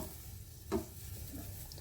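Tomatoes go into a hot pan for chutney with a single soft plop, followed by a faint, low sizzle.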